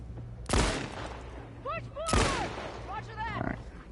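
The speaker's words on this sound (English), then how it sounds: "How is he shooting me from here?" Gunfire in The Last of Us Part II, two sharp, loud shots about one and a half seconds apart, each followed by echoing tails, with a dog whining and yelping in between and at the end.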